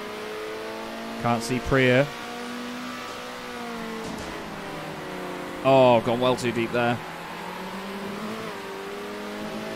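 Race car engine from the Circuit Superstars video game, with a steady sustained hum and the throttle worked hard as it goes through a turn. Two short bursts of speech sit over it, one near the start and one midway.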